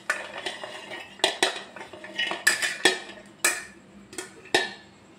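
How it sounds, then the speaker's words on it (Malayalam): Chopped fresh coconut pieces are dropped into a mixer jar, producing a series of sharp clattering knocks and scrapes at an irregular rhythm, close by and moderately loud. "ഇതൊരു മിക്സി ജാറിലേക്ക് ഇട്ട് കൊടുക്കാം"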